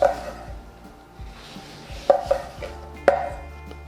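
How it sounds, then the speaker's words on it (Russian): A knife slices an orange into rings on a board, giving a few crisp, separate chops spaced irregularly against quiet kitchen background. "Апельсин нарезаем. Я нарезаю их кольцами"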